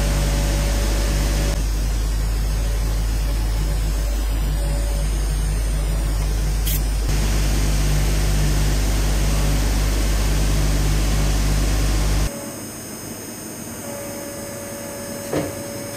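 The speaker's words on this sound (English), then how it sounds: "And it'll be milled like this all around." A CNC mill cuts an Abloy profile lock pick tensioner held in a collet chuck, producing a loud, constant broadband machining whine and hiss that runs unbroken before cutting off abruptly, leaving a quieter hum.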